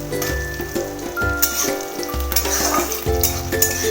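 Fried onions and broken garam masala sizzle steadily in hot oil in a pan, stirred now and then, close and fairly loud.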